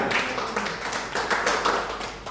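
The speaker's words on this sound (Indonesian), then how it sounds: "beri tepuk tangan lagi buat Tuhan" A congregation claps during a Sunday worship service at Rehoboth church in Manyaran: a short, close burst of hands beaten in loose, uneven rhythm, with no speech over it.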